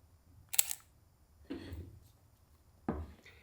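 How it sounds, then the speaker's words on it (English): Leica M10 rangefinder camera shutter firing, heard as quiet, close, crisp mechanical clicks: a sharp snap, a softer muffled click, then another firm click, spaced apart in an otherwise quiet room. "something that really impressed me is the sound of the shutter"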